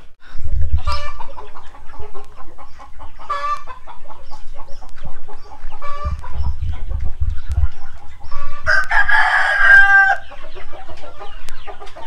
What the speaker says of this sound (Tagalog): na yan yung tandang namin dito guys